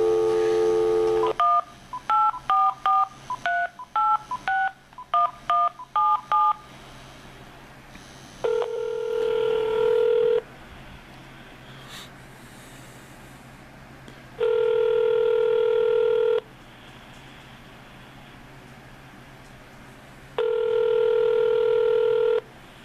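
A telephone call being dialed: a rapid run of DTMF keypad tones at the start, then a pause followed by three long, evenly spaced ringback tones, clear and alone with no talking.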